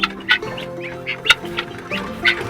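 Guinea fowl in a mixed backyard flock call in several sharp, repeated bursts spread across a couple of seconds, heard fairly close against a background of other bird chatter.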